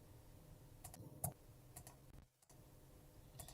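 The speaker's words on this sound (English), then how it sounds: "I hear him typing." Scattered clicks of typing on a computer keyboard, faint and intermittent, with a few sharper key taps against a quiet room-tone background.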